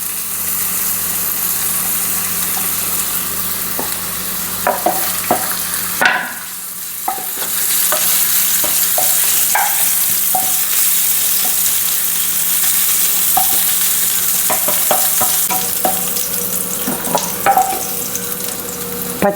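Ginger sizzles and crackles steadily in hot coconut oil, a close, continuous frying hiss with scattered stirring clicks, briefly dropping out midway before resuming, for a Kerala ladies' finger curry.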